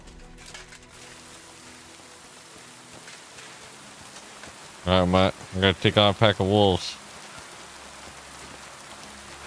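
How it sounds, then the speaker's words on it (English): Soft, steady rain patters in a video game beneath a voice speaking briefly in the middle, and the rain continues faintly before and after the talking. "Oh, it's really raining."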